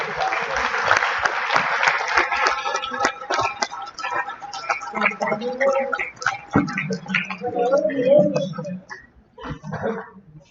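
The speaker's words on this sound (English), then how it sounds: "Can we have a round of applause for the chief residents?" Sustained clapping from a graduation audience at a St Vincent internal medicine ceremony honoring chief residents, dense and steady before thinning out, with scattered voices mixed in.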